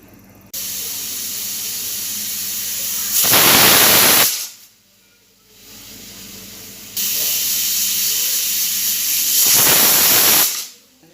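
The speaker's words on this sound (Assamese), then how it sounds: "এতিয়া এইখিনি মই 2টা হুইচেল মাৰিবলৈ দিম" A pressure cooker on a gas stove lets out two long, loud whistles of rushing steam, each a harsh hiss lasting about a second, with a steady lower hiss of venting steam running between them.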